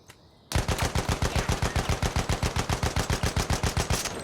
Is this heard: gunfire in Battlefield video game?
yes